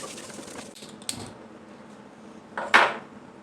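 Cooked chicken liver is moved into a cooking pot, with a soft tap early on, then a sharp metallic clatter of utensil against the vessel about two-thirds through, close and otherwise quiet.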